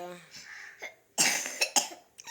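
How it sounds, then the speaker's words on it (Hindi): A voice trails off into a burst of harsh coughs, three or four close together, loud and near, from a cough lasting since the night before. "रात से हो रही है खांसी"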